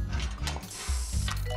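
Mechanical whirring and ratcheting from a 3D-printer-like machine in the Two Point Hospital video game, a steady gear-driven churn with low throbbing pulses, continuous and fairly loud for under two seconds.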